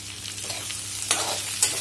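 Crushed ginger and garlic fry in a pan for a potato and pointed gourd curry, with a steady close sizzle and a couple of brief stirring scrapes, no talk.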